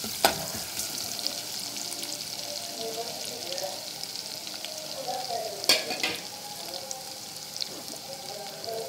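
Garlic frying in a pan for a fish fry gives a continuous close sizzle with a few sharp stirring clicks, heard without talk.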